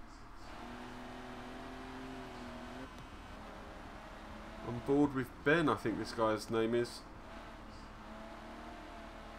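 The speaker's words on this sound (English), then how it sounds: "You can just hear that car, he's putting barely any power down" A race car in a sim racing game drones steadily with a rising and falling engine note, barely on the power, while a commentator talks over it and a brief burst of engine noise swells in the middle.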